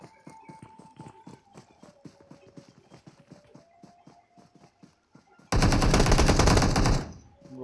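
Gunfire in the mobile battle-royale game PUBG Mobile: quick, light popping shots in irregular bursts, then a dense, loud automatic burst lasting about a second and a half before it cuts off.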